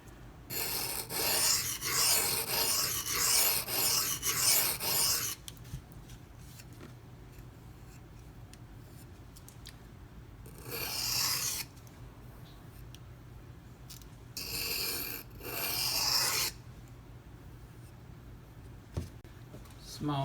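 A Microtech Socom Elite knife with a CTS-204P steel blade is drawn across a small 1000 grit silicon carbide stone in several close, rasping strokes, with a long run of passes followed by two shorter bursts and quiet gaps between them.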